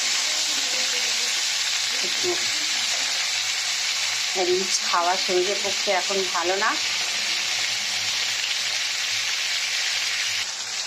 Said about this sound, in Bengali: দেখো বন্ধুরা ভাজাভাজি হয়ে গেছে